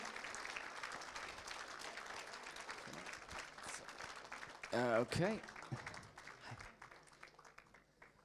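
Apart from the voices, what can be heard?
audience applauding award nominees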